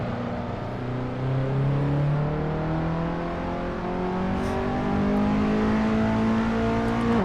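Race car engine in a driving simulator game at Sebring, a steady loud drone with rising and shifting pitch as the engine revs and accelerates, continuous and alone without talk.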